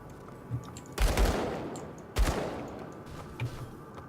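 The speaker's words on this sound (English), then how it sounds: "Quite like this cluster bomb." Cluster bombs go off in the action RPG Grim Dawn, two heavy bursts of rattling, crackling detonations about a second apart, each trailing off, with faint smaller pops around them.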